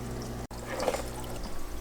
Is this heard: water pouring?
yes